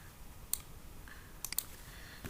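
A computer mouse gives a few sharp, quiet clicks: a single click, then a quick cluster of three, close up against a faint hiss of room noise.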